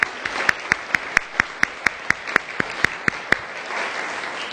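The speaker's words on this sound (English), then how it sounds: "A round of applause for our ambassadors." Audience members at a women's leadership event clap for ambassadors who stand up, a small burst of applause that soon thins to a few sharp, regular claps ringing out alone, about one every quarter second, before fading away.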